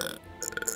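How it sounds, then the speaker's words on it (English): A short, gross-sounding burp during a cooperative Battlefront livestream, a brief guttural belch over a microphone with some background chatter and noise around it. "Oh, that was a really nasty burp."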